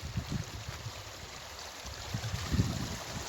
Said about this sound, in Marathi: हे पहा कसं पाणी वाहत आहे